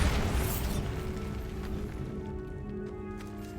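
A Bombarda spell explodes in the Hogwarts Legacy video game, one strong blast at the very start that decays into a lingering, ringing tail. No voices are heard.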